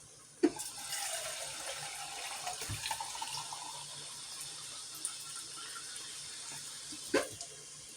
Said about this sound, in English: I need to add my water because that is hot.